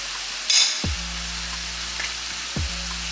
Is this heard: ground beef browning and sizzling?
yes